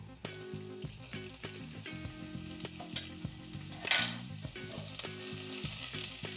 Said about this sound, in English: Now we're gonna add our red onions.